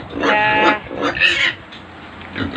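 A piglet squeals and grunts in several short bursts while being washed, close and fairly loud, with faint background noise between cries.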